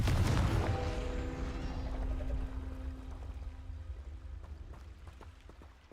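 In a Harry Potter video game, a Confringo blasting spell lands with a loud booming burst that rumbles and then slowly fades over several seconds, with faint crackling debris afterward.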